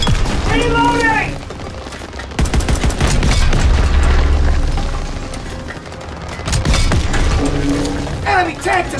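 An enemy Panzer tank is destroyed in a World War II Call of Duty battle: loud booming blasts and sustained gunfire roll through a chaotic soundscape, with shouted voices between the bursts.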